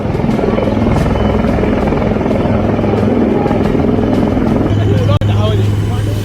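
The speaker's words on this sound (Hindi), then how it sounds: "हेलीकॉप्टर से बाढ़ में फंसे लोगों को रेस्क्यू किया गया।" An army helicopter rescuing people stranded by floods in Ashti, Beed, India, gives off a loud, continuous rotor drone with a steady low thrum that stays close throughout.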